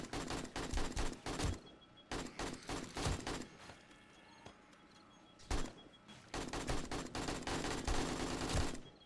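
Automatic turrets fire during a horde night in 7 Days to Die with the Darkness Falls mod. They let off rapid, loud bursts of shots with short pauses between them, and no talk is heard.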